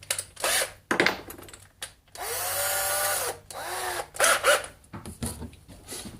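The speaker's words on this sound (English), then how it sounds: "So I'm just going to drill through the pearl drilled hole and start a little pilot hole in this plate" A handheld power drill whirs in several short bursts, with one longer steady run in the middle, close up and fairly loud, drilling a small pilot hole through a pre-drilled hole into a plate.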